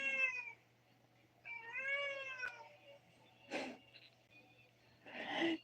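A small male cat meows twice, first briefly and then with a longer, wavering cry, close and fairly quiet, with breathy huffs and snorts in between and a low background hum.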